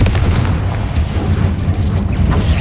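A Confringo fire spell explodes in the video game Hogwarts Legacy, producing a loud, continuous rumble of deep booms that rolls on without a break.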